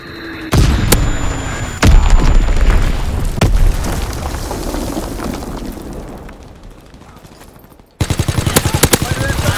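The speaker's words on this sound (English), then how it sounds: "Azon bomb." Azon bombs strike in a Call of Duty WW2 multiplayer match: several loud, close explosions hit in sequence, leaving a long rumbling decay, before rapid automatic gunfire bursts in near the end.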